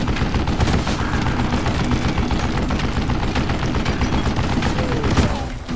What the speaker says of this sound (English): man randomly have this fucking Gatling gun in the middle of nowhere?